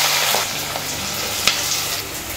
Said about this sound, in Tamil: இப்போ நம்ம வெங்காயம் சேர்த்துட்டு நல்லா வதக்கிடலாம்.